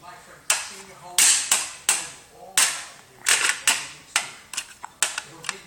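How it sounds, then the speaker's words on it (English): A small child bangs a plastic toy against a hard surface, giving a string of sharp, loud clacks in an uneven rhythm, with a few quiet voice sounds between the hits. "And now you're banging the toy."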